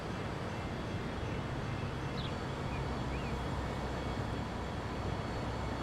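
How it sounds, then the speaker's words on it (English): A steel freight train rolls past in the game Transport Fever 2 as a steady, dense rumble that holds at an even level throughout, with no voices. "Here comes a steel train."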